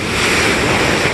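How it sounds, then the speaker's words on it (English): Ocean surf washing and breaking in a steady broadband roar, loud and continuous, with some wind noise and no voices. "Out here checking these waves."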